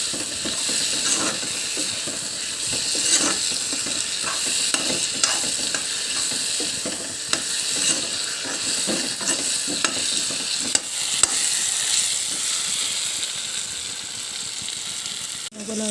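Potatoes fry in a pan on a home stove while a spatula stirs and scrapes them in quick, irregular strokes over a soft, steady sizzle, close and fairly quiet, with no talking.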